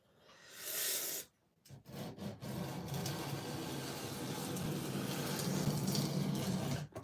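A knife is sharpened on a 120 grit abrasive with several rasping swipes, a short brighter stroke, then a pause, then a longer run of quieter, steady scraping close by.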